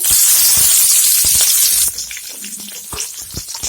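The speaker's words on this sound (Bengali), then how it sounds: "এখন আমি চিড়ে রাখা লঙ্কা আর পেঁয়াজ দিয়ে দিব," Green chillies and onion tipped into hot oil in a kadai for a greens fry give a loud, bright sizzle for about two seconds, then settle into a quieter crackle with scattered stirring knocks.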